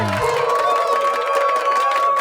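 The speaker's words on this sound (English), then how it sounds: "Maybe go ahead and clap it up." Crowd cheering and whooping with scattered clapping, a bright sustained burst of voices at fairly close range, dropped into a podcast conversation.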